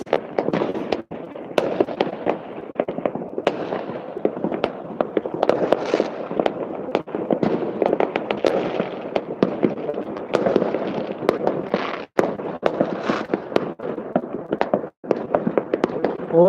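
Fireworks bursting over Wrocław, Poland on New Year's Eve: a dense, continuous barrage of loud crackling pops and sharp booms at varied distances, with several standout blasts cutting through the steady roar.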